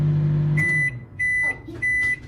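A microwave oven baking a cake hums loudly in three steady bursts separated by short gaps, with a high electronic whine riding over each run.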